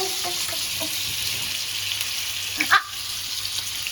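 Fish sizzling in hot oil in a home kitchen, a steady bright frying hiss throughout with a brief sharper splutter near the end, no voices over it.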